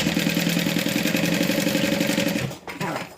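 A sewing machine stitches a fabric wristlet in a fast, steady mechanical chatter that runs loud and close for about two and a half seconds, then stops abruptly, leaving brief handling noise.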